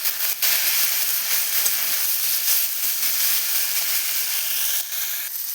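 Mixed vegetable curry with turmeric and salt frying in a pan, giving a continuous close sizzle and hiss with small clicks and scrapes as it is stirred.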